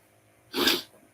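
A single short, breathy sneeze, close and fairly loud, rising out of a quiet background and ending quickly.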